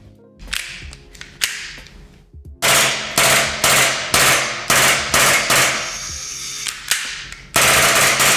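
Airsoft Glock pistol powered by Sodastream CO2, fired in a handful of single sharp cracks, then a fast string of loud snappy shots in quick succession, close and with no talking.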